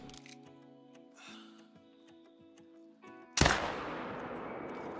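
A single loud rifle shot fired at a red fox in the hunting video game Call of the Wild cracks out near the end, ringing into a long decaying tail after a stretch of quiet, humming game ambience.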